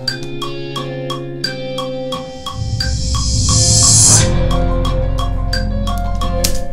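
A fully produced electronic rock track plays the bridge drop from a remake of a song: steady ticking percussion over layered guitars, a rising reverse cymbal swell, then a heavy low bass drop entering loud and full.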